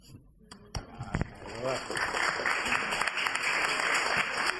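Applause rising from an audience at the opening ceremony of an academic year at LABA Valencia, starting after a few sharp sounds and swelling into a steady, fairly loud wash of clapping with some voices mixed in.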